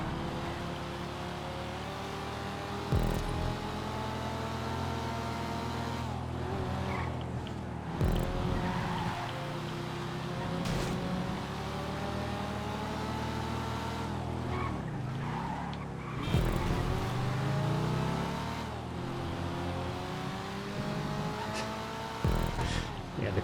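A car races in GTA 5, the engine droning steadily with harmonic pitch sweeps as it shifts and accelerates, with brief louder bursts of bumps or skids. Someone talks intermittently over it.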